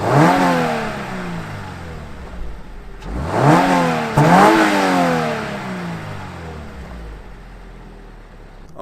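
A Toyota GR86 with a high-compression, premium-fuel engine revs hard in three loud sweeps, each climbing and falling off, the last trailing into a lower, steadier idle.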